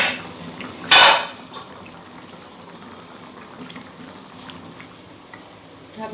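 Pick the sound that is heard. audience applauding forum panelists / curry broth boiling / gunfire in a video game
curry broth boiling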